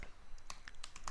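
Computer keyboard keys clicked in a quick, light burst of several taps, including the tab key, close and fairly quiet with no talking.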